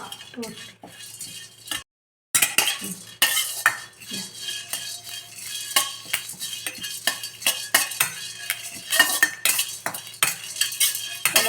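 Black peppercorns dry-roast in a pan for idli podi while a metal spoon stirs them, making rapid close clinks, scrapes and rattles that stop briefly and then resume.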